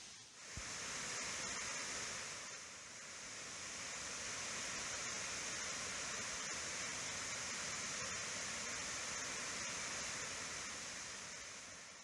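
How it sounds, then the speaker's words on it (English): Laurel Creek Falls on the Foothills Trail roars as a steady, dense wash of falling water, unbroken and constant throughout, with no voices over it. "This is the Laurel Creek Falls."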